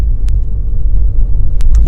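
A Porsche Taycan electric car pulling away under a gentle press of the pedal, heard as a steady, loud low rumble from inside the cabin with a few brief clicks and ticks on top, no voices.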